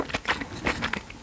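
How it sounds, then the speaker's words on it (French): A crispy fried-chicken Burger King burger is bitten into up close, giving a few sharp crackling crunches in quick succession. "Il y a le côté croquant de la friture du poulet."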